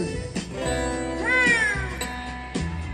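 A cat's meow rises and falls in a single clear cry over background music, mid-loud and up close.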